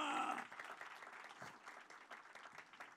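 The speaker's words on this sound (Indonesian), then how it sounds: "Boleh berikan tepuk tangan." A church congregation at a Sunday worship service applauds, a faint, distant wash of many hands clapping at once, with a louder voice at the very start.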